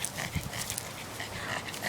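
A dog panting steadily at close range while out on a walk, quick breathy puffs running through the whole stretch with faint rustling around it.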